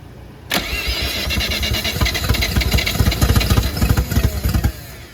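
A turbocharged rotary engine swapped into a Mazda FC RX-7 catches and runs loud and close, its throttle blipped in a series of choppy, uneven revs before settling.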